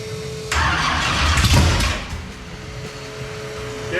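A 1948 Austin drag car fitted with nitrous and a fuel pump fires up loudly after a moment of quiet, roars to a peak and then settles into a rough idle with a thin whine over it.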